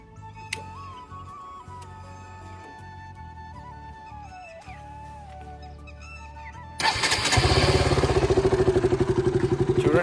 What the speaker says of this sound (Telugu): మన బైక్లో హైడల్ సౌండ్ ఇట్లా ఉంది కదా.